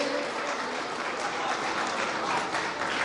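An audience at an alumni association gathering applauds warmly to welcome a former teacher to the stage, with steady, sustained clapping from many hands filling the hall.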